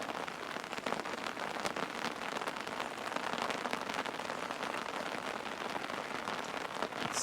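Steady rain pattering densely on a tarpaulin over a tent campsite, a continuous close hiss of drops that stays constant throughout with no voices.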